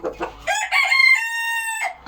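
A rooster crows loudly and close by in one long, drawn-out call, preceded by a few short clucks.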